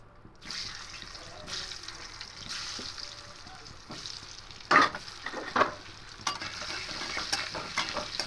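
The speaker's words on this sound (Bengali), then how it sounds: "এবার আলুগুলোকে প্রথমে ভেজে নেব।" Potatoes sizzle as they fry in a pan in a low, steady crackle, with a couple of louder scrapes or stirring clatters in between and faint water sounds nearby.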